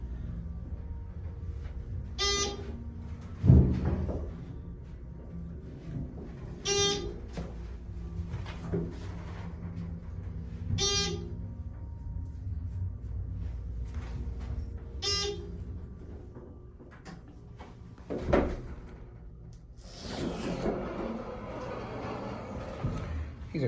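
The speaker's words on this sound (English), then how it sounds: "It seems to start going before the door closes all the way. It's so slow. The doors." Slow-closing doors on a rundown Thyssenkrupp hydraulic elevator at a Holiday Inn in Erie, Pennsylvania rumble and slide, with repeated chime tones every few seconds, a few knocks and a low hydraulic hum underneath.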